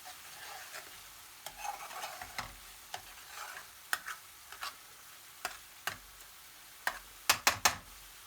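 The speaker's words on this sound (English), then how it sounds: "Stir in well and cook for 30 seconds." A spoon stirs base gravy into meat in a pan, sending out soft scrapes and a light sizzle. Sharp clicks of the utensil striking the pan come in bursts, with a quick run near the end.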